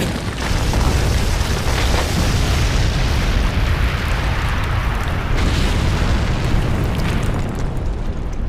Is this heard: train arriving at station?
no